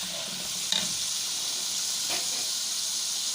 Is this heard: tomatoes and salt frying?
yes